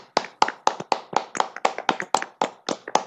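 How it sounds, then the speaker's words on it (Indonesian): Students in a classroom clap their hands in a steady rhythmic pattern, a dozen or so crisp close claps in quick succession. "mari kita tepuk tangan atas kerjasamanya"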